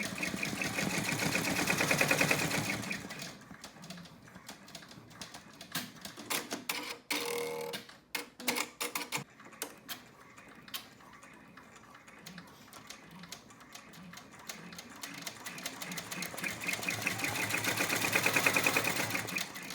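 An embroidery machine tacks faux leather to vinyl for a zippered purse, giving a quiet, fast mechanical stitching chatter that swells at the start and end with a few sharp clatters in the middle.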